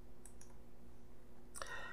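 A computer mouse is double-clicked on an HTML file in Windows 10 File Explorer, giving two brief, faint clicks close together near the start and a brighter burst toward the end over a steady low hum.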